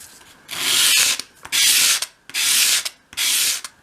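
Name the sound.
sanding a bevel on a wooden piece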